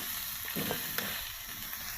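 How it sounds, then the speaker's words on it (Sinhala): Crab sambal being stirred and fried in a pan, a steady close sizzle with a few soft scraping stir strokes and light knocks, no voices. "දැන් මේක හොඳට කවලම් කරගන්නවා."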